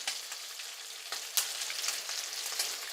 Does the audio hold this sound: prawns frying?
yes